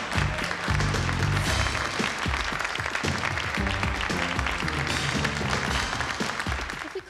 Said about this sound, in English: a nice round of applause for the boys and girls on the catwalk today